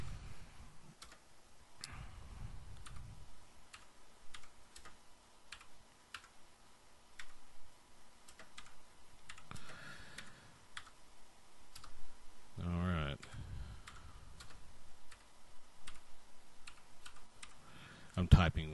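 Keys on a G80-S Z80 computer keyboard are tapped one-handed in slow, irregular single clicks with pauses, close to the microphone, with a few brief bursts of other noise between them.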